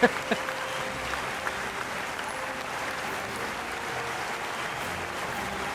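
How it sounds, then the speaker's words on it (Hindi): Sustained applause from a large audience at a drama awards show in 2023, a steady, fairly distant wash of clapping with a few sharper claps at the start. "बहुत सारी तालियां।"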